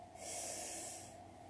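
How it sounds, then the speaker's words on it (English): A person draws in one long, deep breath through the nose as part of a breathing exercise, a steady close airy rush that swells and then eases, with no talking. "Inhale."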